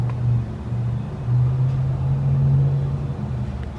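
A car engine idles and runs steadily at close range, a low continuous rumble that swells slightly as the vehicle arrives, with no talk over it.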